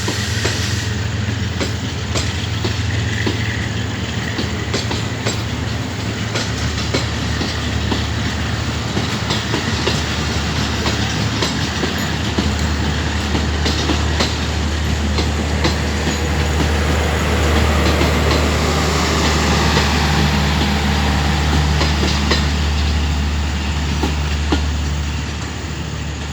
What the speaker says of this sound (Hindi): GU20 ने बहुत ही ज़बरदस्त अंदाज के साथ एक्सेलरेशन करनी शुरू कर दिया